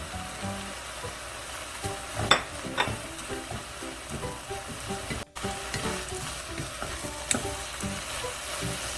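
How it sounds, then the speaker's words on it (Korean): Braised burdock with shredded dried chili reducing in a nearly dry pan, a low crackling sizzle broken by sharp spatula scrapes and clatters, close and moderately loud. "물기가 없을 때까지 바짝 졸여야 윤기가 나요."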